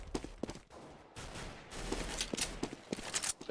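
Gunfire in an esports shooter video game match: a sharp gunshot among scattered shots and footsteps, fairly faint under a busy game mix.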